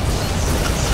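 A Borg vessel explodes in Star Trek: Legacy space combat: a brief, dense, rumbling blast, loud and close for its full second.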